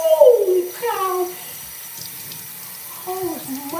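A shower tap runs with a soft, steady hiss beneath loud, drawn-out vocal exclamations from someone standing under the spray.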